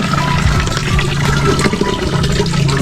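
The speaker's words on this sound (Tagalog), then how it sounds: "Naiipunan ko po ng tubig ito, mapupuno." Water pours steadily and loudly into an Azolla pond container, a continuous close splashing rush with no pauses.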